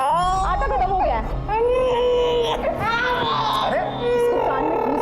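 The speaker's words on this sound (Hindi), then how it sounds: "बच्चा रो रही है।" A baby cries loudly and steadily close by, with wailing sobs that rise and fall in a small home where a voice talks over the crying.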